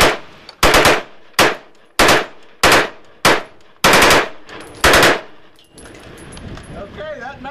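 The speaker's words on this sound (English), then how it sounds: "So we have our slide fire action, and we're gonna try it." AR-15 rifle with a slide fire stock fires a full 30-round magazine in several rapid, loud bursts close by, each burst cutting off sharply, followed by faint clinking and quiet rustling.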